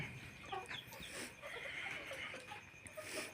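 Hens cluck and murmur softly inside a farm shed at night, scattered calls overlapping over a faint steady hum, with no talking.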